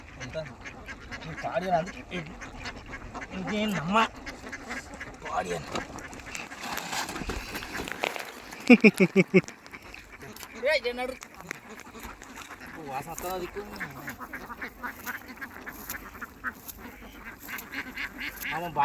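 Ducks quack repeatedly around a fishing spot, their calls mixed with ongoing talk and outdoor movement, with a louder cluster of calls near the middle.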